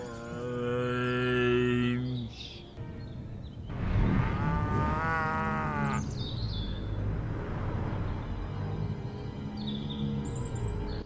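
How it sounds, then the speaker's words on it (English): Radioactive zombie cows in the video game Destroy All Humans let out long, drawn-out moos, several overlapping calls in succession, loud and near with no talk over them. "turned them into radioactive exploding zombie cows"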